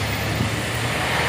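A Medan Jaya bus rolls past on a hilly Indonesian road, a loud, close, steady rumble of engine and tire noise filling the moment without a break.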